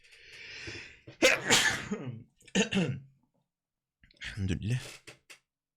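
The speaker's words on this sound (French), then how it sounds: "je sens que je vais éternuer" Loud, close sneezing comes in a few separate explosive bursts with short quiet gaps, mixed with breathy vocal sounds and throat noises.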